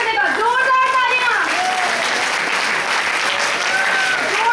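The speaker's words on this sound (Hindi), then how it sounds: "दोस्तों इनकी तालियों से काम नहीं चलेगा। जोरदार तालियां," An audience claps for a motivational speaker, a loud continuous wash of applause running throughout while an amplified voice talks over it, urging more.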